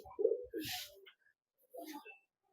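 A moulting Kaldoma pigeon coos in a loft in Kolkata, giving a few soft, close, low throaty coos with brief pauses between them and no talking.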